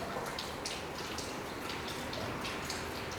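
Water runs and splashes steadily in a dense, even rush with scattered drip-like spatters, constant and close throughout with no voices.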